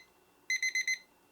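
A timer alarm for brewed tea gives four quick, evenly spaced high electronic beeps, clear and alone against a quiet room.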